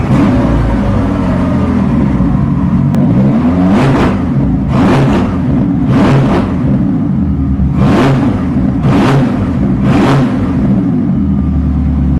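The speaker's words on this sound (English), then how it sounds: "let's take a listen to the proper twin turbocharged V8 powering the all-new Gemera hot V8." A Koenigsegg Gemera's twin-turbocharged five-litre V8 idles with a steady rumble, then is revved in six sharp, loud blips in quick succession, each rising and falling back to idle.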